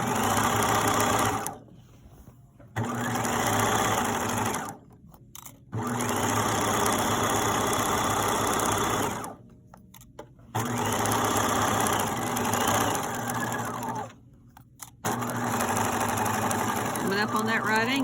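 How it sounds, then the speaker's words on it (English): A sewing machine stitches fabric in several loud, steady whirring runs separated by short pauses, its rapid mechanical hum stopping and restarting as the needle is set down and the work turned. "and then continue sewing."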